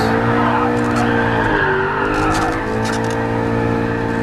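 In Gran Turismo Sport VR, a car spins donuts, its engine droning loudly and steadily while the tires squeal and skid continuously throughout.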